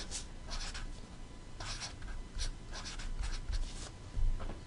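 Handwriting on a board during a physics lecture on RC circuits gives off scratchy strokes in separate bursts, close and fairly clear over a faint room hiss, with no voice.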